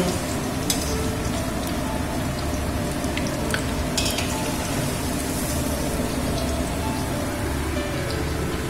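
Paneer pieces shallow-fry in hot oil in a pan for Bengali palak paneer, producing a loud, continuous, close crackling sizzle with scattered sharp spits and pops and no talking.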